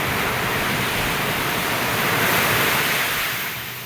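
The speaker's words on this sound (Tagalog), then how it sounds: "malakas yung alon oh" Loud, steady roar of surf filling the whole clip, a dense wash of breaking water that swells slightly and then eases toward the end.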